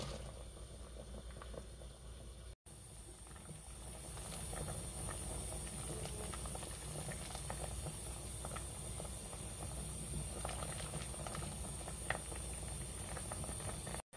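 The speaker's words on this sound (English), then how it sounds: "Let's cover and boil it for at least 5 minutes" Pollack soup boiling in a covered pot, a steady low bubbling hiss with faint patter and simmering crackle, quiet and continuous throughout.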